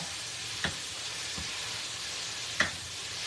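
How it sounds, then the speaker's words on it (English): Ground beef sizzles steadily in a hot pan on a home stove, a soft constant hiss broken by two sharp clicks of a utensil scraping and stirring, with no voices. "I'm just stirring our ground beef."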